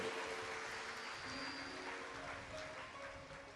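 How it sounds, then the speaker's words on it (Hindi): An audience in Birgunj claps after being called on at a religious discourse, a steady, fairly faint wash of many hands that tapers slightly toward the end, with no speech over it. "एक बार पूरे वीरगंज वासियों के लिए जोरदार ताली बजाएं"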